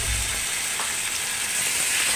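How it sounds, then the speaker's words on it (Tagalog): Chicken pieces sautéing in hot oil in a pan, a steady close sizzle with faint scraping and no voices. "lagyan na natin ng oil at saka gisa na natin yung chicken"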